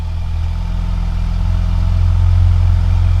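A 2023 Grand Wagoneer SUV's 3.0 Hurricane engine turns over and settles into a steady, low rumbling idle, growing slightly louder toward the end, with no voices.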